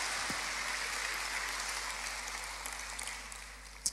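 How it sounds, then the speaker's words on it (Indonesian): A church congregation applauds in a dense, continuous wash of clapping that holds steady for several seconds, then fades slightly toward the end. "Tepuk tangannya boleh yang paling meriah buat Tuhan kita."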